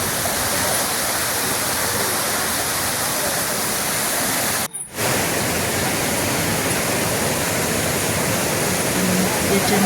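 A large waterfall behind a resort pours with a loud, steady, close roar that fills the whole stretch, broken only by a momentary dip near the middle.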